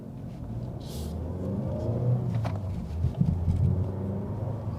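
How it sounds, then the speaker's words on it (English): A Mazda, either a Mazda 3 or a CX-30, pulling away and accelerating at a moderate pace from standstill to 50, a steady engine rumble building gradually, heard from inside the car and with no voices. "That was a 0 to 50 acceleration, not too exaggerated, so in a, let's say, normal style."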